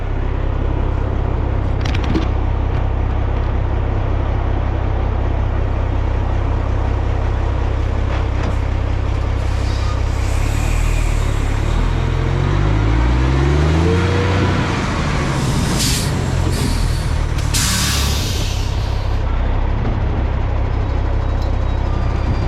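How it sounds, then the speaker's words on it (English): A loaded dump truck rumbles past at close range over a gravel building pad, its low engine drone shifting as it moves, with crunching and rattling over the loose surface. "A loaded dump truck going over this"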